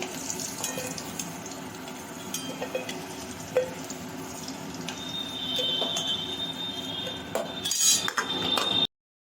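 Metal utensils clink and scrape against a pan as red-fried potatoes are lifted out, with a steady hiss of hot oil underneath and a brighter clatter near the end.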